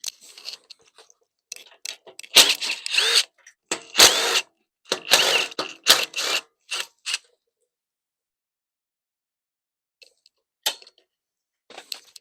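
A power tool works on the valve cover of a Craftsman 208cc snowblower engine that has lost compression, giving bursts of close, ratcheting mechanical clicks and whirs separated by short pauses, followed by long silence and two faint final clicks.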